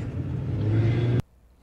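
A car engine rumbles and revs steadily for about a second, loud and close, then cuts off abruptly, leaving near silence with a faint brief sound at the end.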